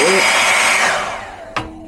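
A hotel room hair dryer blows with a steady, loud whir that fades down toward the end, followed by two short clunks.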